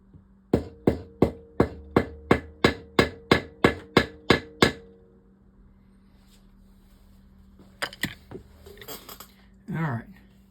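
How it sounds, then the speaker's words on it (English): A fishing reel spring being hammered flat on a level surface: about a dozen sharp metallic strikes in a steady rhythm, close and loud, followed by quiet and a few scattered clinks and handling noises. "the only way I'm willing to try to take that out is to hammer it down"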